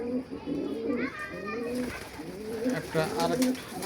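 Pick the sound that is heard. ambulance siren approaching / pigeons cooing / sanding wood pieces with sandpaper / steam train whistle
pigeons cooing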